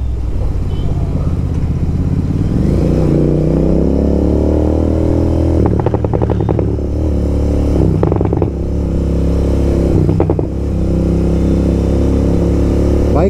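A Royal Enfield Continental GT 650 fitted with a Code 6 exhaust revs loudly and close, its engine note rising and holding, with several sharp crackling pops on the throttle.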